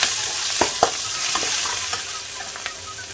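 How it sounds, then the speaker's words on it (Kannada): Green chillies and grated ginger sauté in hot oil, giving a close, steady sizzle broken by a few sharp spoon taps and scrapes, with no talking. "ಹಸಿಮೆಣಸು, ತುರಿದಿಟ್ಕೊಂಡಂತಹ ಶುಂಠಿ, ಇವನ್ನ ಈಗ 1 ಸ್ವಲ್ಪ ಬಾಡಿಸ್ಕೊಳ್ತೇನೆ."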